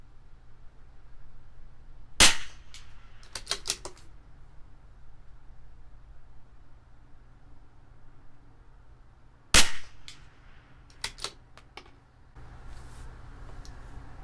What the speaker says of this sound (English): this rifle shoots amazing